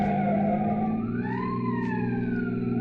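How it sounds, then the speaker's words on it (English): A police car siren wails loud and steady in a pursuit through traffic, its rising and falling tone sounding close over a low engine rumble, with no talk. "Finally, a pursuing police car forces them over to the curb."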